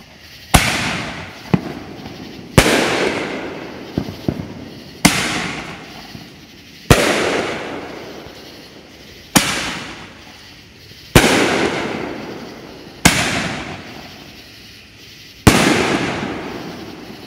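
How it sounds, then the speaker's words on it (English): Six-inch Ring of Fire canister shells from America's Greatest Fireworks burst one after another, about eight loud booms at uneven intervals, each trailing off into a crackling decay. "We got 6 ring of fire by America's greatest fireworks."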